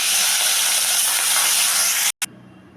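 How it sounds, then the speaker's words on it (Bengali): Rohu fish pieces dropped into hot oil in a wok make a loud, continuous, close hiss of sizzling that cuts off abruptly near the end before a brief return. "তেলটা গরম হয়ে গেছে তো এখন এমনি দিয়ে দেবো মাছগুলো"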